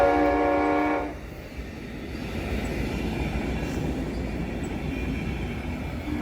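CSX freight train passing through Jenison, Michigan: a horn blast for the first second, then a steady loud rumble of rolling freight cars that continues throughout.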